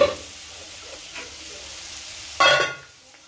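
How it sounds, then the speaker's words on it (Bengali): Chicken marinated in yogurt and lemon juice drops into oil-glossed spice paste with Kashmiri chili powder for a rezala. A steady low sizzle runs throughout, then a loud burst of spitting hiss flares near the end and quickly dies back down. "তো এই যে ম্যারিনেট করা চিকেনগুলো দিয়ে দিলাম।"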